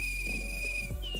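A whistle blown during a timed group exercise gives one steady high tone held for about a second, fairly loud, over a low hum of room noise.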